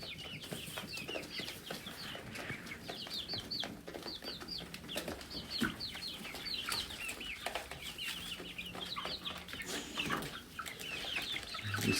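Backyard chickens with a rooster cluck steadily and busily while pecking at a head of cabbage, a dense chorus of overlapping calls close by with occasional wing flaps and no talking.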